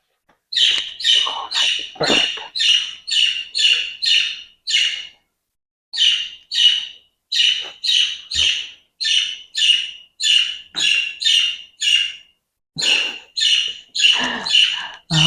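A pet bird named Blueberry chirps and tweets in quick, steady bursts of bright calls, with brief pauses, close and clear and heard alone.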